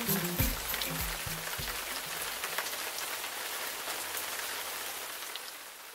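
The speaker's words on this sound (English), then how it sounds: "It's raining, there's no sign of the sun." Steady rain patters on a surface with dense, fine drops, close and constant, with a few low thuds near the start.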